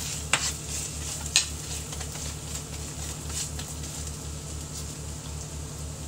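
Corned beef sautéing with onion in a pan for a breakfast of eggs and corned beef, a steady low sizzle with a couple of sharp clinks of a utensil early on.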